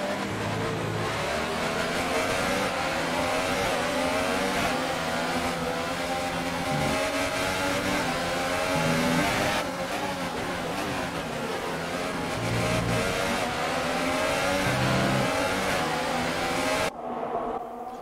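Formula 1 single-seaters in the F1 2018 game at Interlagos in a storm, engines droning and shifting steadily as the pack runs close together, with busy layered engine noise throughout that cuts off near the end.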